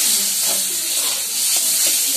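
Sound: water added to sizzling spiced potatoes in pan

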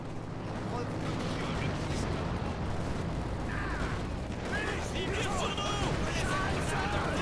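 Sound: gunfire and artillery in a WWII strategy video game

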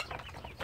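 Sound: chickens clucking at morning feeding

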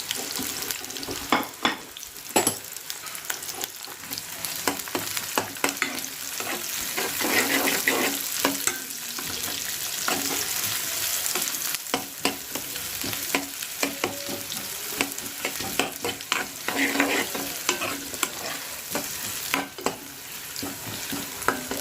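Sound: onions and green chillies frying in a pan

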